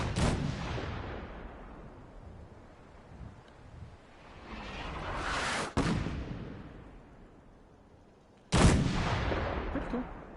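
Cannon blasts in Fallout 4, three heavy booms with long rumbling decays, the first and last loud and near, the middle one a little softer, with no talk.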